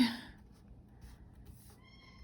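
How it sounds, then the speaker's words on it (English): A domestic cat cries briefly at the start, a short meow over a steady low hum, followed by faint rustling and a thin tonal whine near the end. "my cat Kiwi is he's crying"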